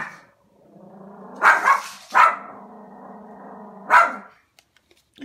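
A dog barks at a stuffed toy puppy, letting out three or four sharp, close barks spread over a few seconds above a low, steady whine.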